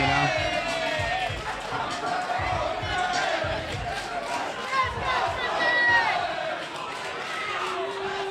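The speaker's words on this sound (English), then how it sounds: "the crowd's getting into it here, too, cheering on their fighters" Crowd cheering and shouting at a Pure FC mixed martial arts event, a sustained roar of many voices rising and falling in the arena, with a commentator talking over it.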